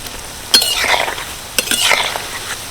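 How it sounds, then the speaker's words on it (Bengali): Crispy homemade snacks frying in hot oil, turned over with a metal utensil: two clanking scrape-and-flip strokes, each followed by a bubbling hiss, heard close. "এইভাবে উল্টে পাল্টে ভালো করে ভেজে নেব তেলের মধ্যে দেওয়ার পরে"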